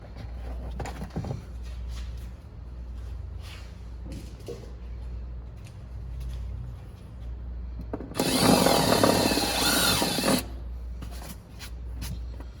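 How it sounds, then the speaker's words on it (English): A steady low mechanical hum carries along, then a power drill bores loudly through material for about two seconds before stopping. "Then you'll remove everything that you just did and drill the hole."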